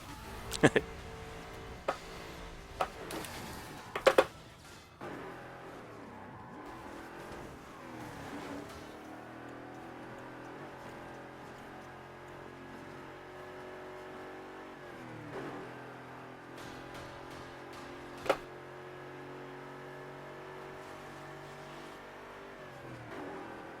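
Race car engines in the Burnout Paradise video game revving and accelerating, a continuous moderate engine drone with a few sharp crash-like hits, with a voice talking over it.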